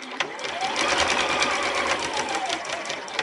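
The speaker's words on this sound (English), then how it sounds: "lift the presser foot, turn your fabric, lower your presser foot, and then back up a couple stitches, and then go forward." A sewing machine stitches fabric in one steady, fast run of needle clatter, close and fairly loud, with no pauses.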